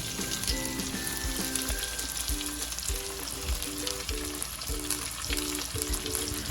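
Sliced large onions sizzle and fry in hot oil with fenugreek and curry leaves in a crab roast base, a steady close frying hiss with soft stirring scrapes throughout.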